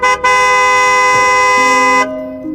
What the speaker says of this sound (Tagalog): At nagulat na lang siya nang biglang may bumusina.